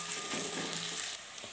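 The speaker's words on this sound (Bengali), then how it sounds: "এখন পেঁয়াজটাকে আমি ভেজে নেব" Onion frying in a pan for Punjabi kadhi pakora gives a steady broadband sizzle with light stirring scrapes. It is fairly quiet and continuous and drops slightly near the end, with no voices.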